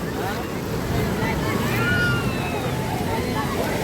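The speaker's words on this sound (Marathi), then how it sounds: "किती छान लाटा येऊ लागलेल्या आहेत" Steady roar of sea waves and surf washing in continuously at Ganpatipule beach, close and fairly loud, with faint voices in the background.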